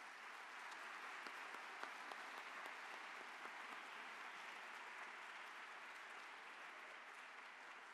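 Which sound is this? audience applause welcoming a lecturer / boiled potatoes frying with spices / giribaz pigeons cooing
audience applause welcoming a lecturer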